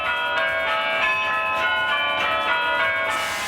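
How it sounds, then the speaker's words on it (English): A church bell rings steadily with strong ringing overtones, its tolling strokes sustained and overlapping, fairly loud with no voices. "From church bells"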